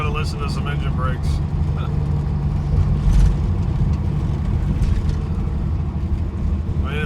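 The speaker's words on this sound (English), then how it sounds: "you just got to listen to some engine brakes" A heavy truck grossing 85,000 lbs descends the San Augustin Pass mountain downgrade, its engine brake producing a low, steady rumbling drone in the cab while a person talks over it.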